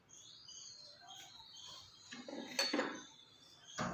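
Roasted potatoes tossed with salt, red chilli and spices in a dish, quiet clinks and scrapes of a utensil against the dish, sparse at first then a few sharper clatters near the end.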